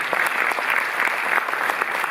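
Audience applauding at the opening night of the Cinémathèque festival in Paris, dense steady clapping close up and fairly loud for the whole stretch, no voices over it.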